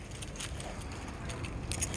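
Car keys jangle in brief metallic clinks during a car project, quiet and nearby over a low idling engine, with some talk.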